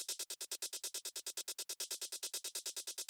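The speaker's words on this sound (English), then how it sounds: "so let's engage this vocoder chain." Shaker loop for raw, hypnotic techno drums run through a vocoder chain, giving a fast, even train of bright, hissy hits with a metallic, pitched edge, quiet and alone without pauses.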